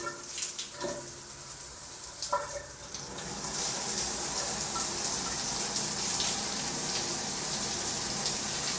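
Hotel shower water runs in a steady, loud hiss and splatter that swells after a few seconds of quieter trickling and handling noises.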